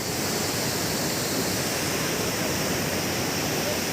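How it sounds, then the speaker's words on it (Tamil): Water gushing through the opened shutters of Chittar dam after heavy rain, a dense, steady roaring rush that stays loud and unbroken, close and alone without voices. "ரொம்பவே தண்ணி நிறைய வந்துட்டே இருக்கு"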